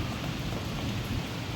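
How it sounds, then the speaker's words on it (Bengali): Steady morning rain falls outdoors as an even, soft hiss of drops with no voices. "আজকে সকাল থেকে বৃষ্টি হচ্ছে"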